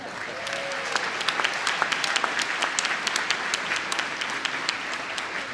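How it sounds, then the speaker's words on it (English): Sustained audience applause at a business school commencement, a dense, even wash of many hands clapping, steady in level and held throughout without speech. "can we have a round of applause for them?"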